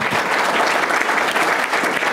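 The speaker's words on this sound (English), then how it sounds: "Round of applause for Rick." An audience claps for an honoree named Rick at an Illinois social services forum, a steady, dense wash of hands filling the room for about two seconds with no voices over it.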